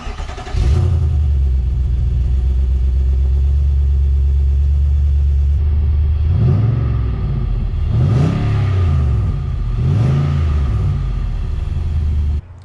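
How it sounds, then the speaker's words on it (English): Nissan Y62 Patrol on a cold start with a Torquid aftermarket exhaust, a loud, deep idle rumble close by, broken by several rising and falling revs in the second half. "So I've got some cold start revving videos of this day 5 and it's really starting to come to life"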